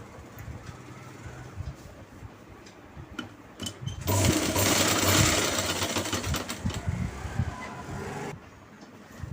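A sewing machine stitches a pant, its motor whirring steadily in the background and then running loud and fast for several seconds before stopping.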